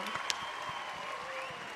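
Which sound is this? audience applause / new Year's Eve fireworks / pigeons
audience applause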